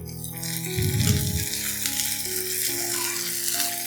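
Deep-fried ivy gourd is tipped into a pan with fried onions and hisses loudly at once, the sizzle continuing steadily as it is stirred, with a sustained musical tone running underneath.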